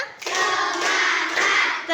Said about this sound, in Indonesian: Tepuk 3.